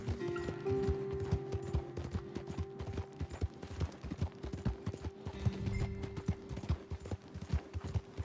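Horse hooves clip-clopping in a fast, steady galloping rhythm in the Red Dead Redemption 2 video game, close and continuous with brief voice calls and a low hum underneath.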